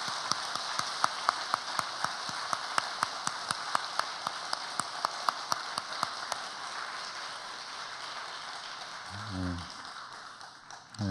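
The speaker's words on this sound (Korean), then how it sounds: "박수를 평상시보다 좀 뜨겁게 치시면서 격려해 주시면 고맙겠습니다" A church congregation claps warmly and steadily at a Sunday evening worship service honoring church-school teachers, with a dense patter of many hands and no voices, then the applause fades out.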